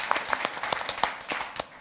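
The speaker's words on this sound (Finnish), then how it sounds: "pienet aplodit on ansaittu." Short burst of audience applause after a team from Hämeenlinna is thanked at an event, scattered claps rising and thinning over under two seconds, moderately close.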